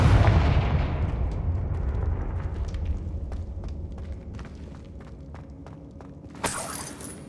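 A Confringo blasting spell goes off in Hogwarts Legacy on Xbox Series X, with a loud low rumbling blast at the start that fades into scattered debris clicks and crackles, then a sharp crack near the end.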